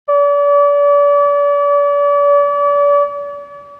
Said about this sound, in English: we're going to select FM from oscillator 3, enable this in, make sure the volume is turned down, and we're using a sine wave on this one as well.